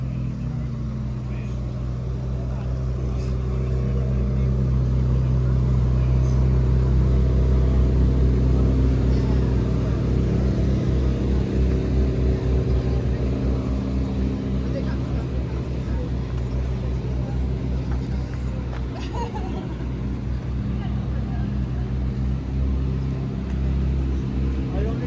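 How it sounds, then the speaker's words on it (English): Ferrari or Lamborghini supercar driven on the streets of Monaco, its engine a steady loud low rumble that swells and holds throughout, with occasional voices talking over it. "Engine."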